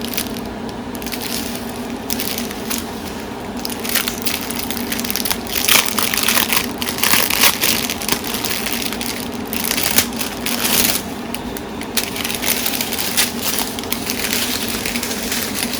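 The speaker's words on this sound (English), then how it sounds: "Let's take our drills out." Small plastic diamond painting drills and rhinestones, including AB-coated stones, rattle and crunch steadily as they are tipped out of a container, with a dense, continuous crackling close to the listener.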